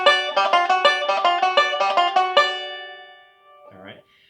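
A guitar lick picked on the third and first strings, a steady run of bright plucked notes that rings out and decays into quiet, followed by a brief faint rustle.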